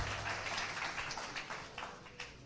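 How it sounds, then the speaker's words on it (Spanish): Church congregation applauding during a Spanish-language service, a steady wash of many hands clapping at moderate volume for a couple of seconds, with no voices over it. "le damos un buen aplauso a todos los que están conectados a través del internet con nosotros"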